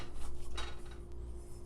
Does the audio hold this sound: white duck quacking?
no